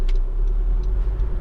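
A Honda Civic 2.2 i-DTEC EX GT five-door diesel hatchback drives along a road, heard from inside as a steady low rumble and road noise with faint, brief higher ticks.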